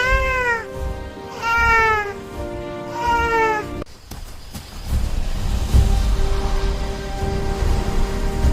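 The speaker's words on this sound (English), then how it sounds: "Mama Cat watches over her playful little kitten." A mother cat in a quiet backyard gives three drawn-out, wavering meows in succession, loud and close, followed by rumbling outdoor noise with no further calls.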